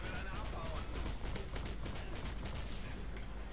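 Rapid UMP submachine gun fire in a first-person shooter game, dense continuous bursts at steady loudness through the whole stretch, with game noise underneath.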